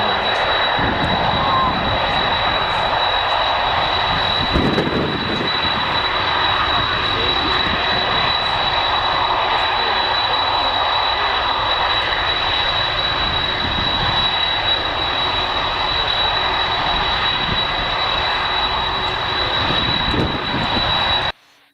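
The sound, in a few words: aircraft jet engines, plane spotting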